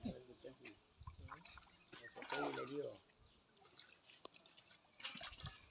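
Water trickles and drips from a pump beside a village fishing pond, a quiet splashing flow under close conversation.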